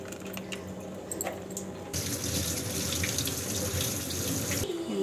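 Running tap water splashes steadily into a sink as chopped onions are rinsed for a goat-head curry, close and continuous, turning louder midway and cutting off near the end.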